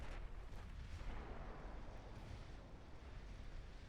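Distant naval gunfire from warships in the naval battle game Ultimate Admiral Dreadnoughts, low booming rumbles blending with sea noise, faint and continuous with no clear separate shots.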